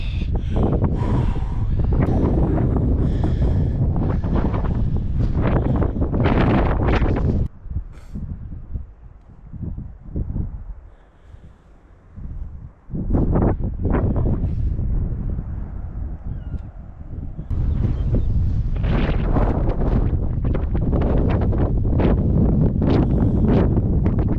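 Strong wind on a coastal mountain batters the microphone in loud, roaring gusts, easing into a quieter, uneven lull midway before surging back to a heavy, constant buffeting.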